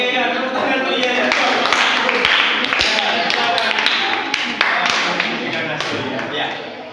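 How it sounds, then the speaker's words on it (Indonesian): A classroom of students clapping their hands in applause, a dense, close burst of many claps that stays steady for several seconds while voices talk over it. "tepuk tangan dulu ya"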